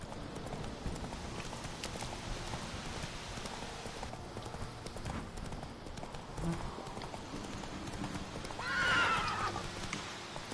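A horse in a PS4 video game gallops with rapid rhythmic hoofbeats, then gives a loud whinny near the end, and a little speech sits under the game sound.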